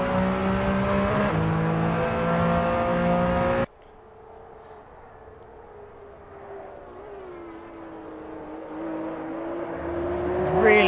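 A Porsche GT2 race car engine in a racing video game revs hard with a strong harmonic whine, then drops to a quieter, steady drone that climbs again toward the end.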